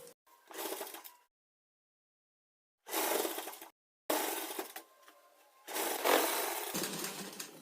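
An electric sewing machine stitches a double katori blouse in four separate motorized runs, short at first and then longer, with near-silent pauses between them.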